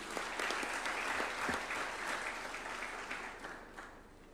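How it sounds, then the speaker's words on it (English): An audience claps steadily for a newly sworn-in judge at a State House ceremony in Nairobi, a dense, sustained round of applause from a crowd that gradually eases off toward the end. "A round of applause for him, please"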